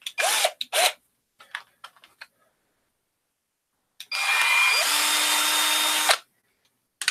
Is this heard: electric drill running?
yes